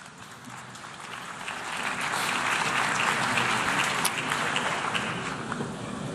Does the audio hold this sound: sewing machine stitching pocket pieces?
no